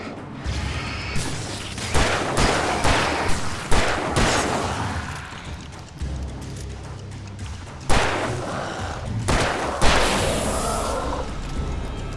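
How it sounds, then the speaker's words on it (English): Flare gun shots and bursts in the horror video game Alan Wake 2, a run of loud booming blasts with crackling, hissing tails, some rapid and some spaced out, with heavy ambience between them and no talking. "Got my flare gun."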